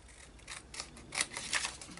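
Scissors cut through a paper journal label in a few crisp, close snips, with quiet pauses between the cuts.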